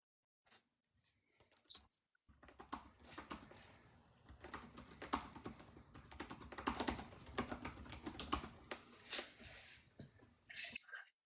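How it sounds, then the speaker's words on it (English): Someone types hard on a computer keyboard, producing a dense stream of loud clacking keystrokes over a voice call, with speech mixed in throughout. "Who's punching their keyboard?"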